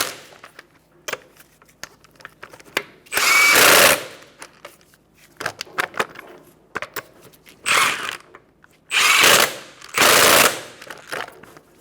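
An impact wrench with a 21 millimeter socket rattles in short bursts while tightening wheel lug nuts on a 2014-2019 Kia Soul, several loud buzzing rattles separated by quieter clicks and handling sounds.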